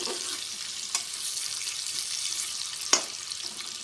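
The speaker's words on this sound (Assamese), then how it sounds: "মই আলুখিনি ধুনীয়াকৈ অকণমান ফ্ৰাই কৰি লওঁ" Soft crackling sizzle of potatoes frying lightly in a pan after jackfruit, a steady hiss with a couple of sharp clinks or scrapes, no voices.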